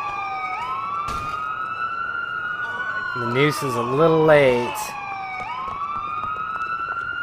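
An ambulance siren in GTA IV with the LCPDFR police mod wails in long rising and falling sweeps, loud and close, while someone briefly speaks over it midway.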